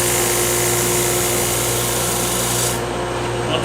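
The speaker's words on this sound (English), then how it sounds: "Inertial sander." An inertial sander runs steadily against a wooden platter, giving a loud, continuous rasping whir that drops slightly near the end.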